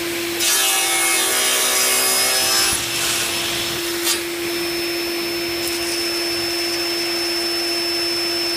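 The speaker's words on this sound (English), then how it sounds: "Now I can set my miter gauge to 15 degrees so that I can cut the 12 segments out" A power saw cuts wood segments at a 15-degree angle with a miter gauge, giving a loud, steady whirring drone that holds throughout, with the heaviest cutting noise in the first few seconds.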